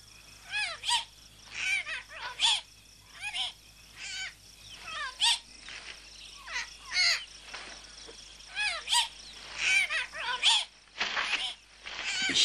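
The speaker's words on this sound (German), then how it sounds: "Ein Papagei." Harsh, repeated squawks from a parrot, loud and close, in irregular bursts over continuous background hiss, with talk running alongside.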